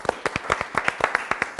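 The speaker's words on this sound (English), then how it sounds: "We're going to get a studio round of applause, everybody around here." A studio audience gives a short round of applause at a live salsa music show, a quick burst of rapid, close clapping lasting under two seconds.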